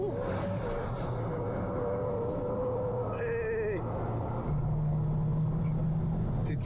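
Volkswagen Beetle race car driven at full throttle around a racetrack, a steady droning engine roar held close and loud throughout, with pitch shifts as revs change and a deeper tone settling in near the end.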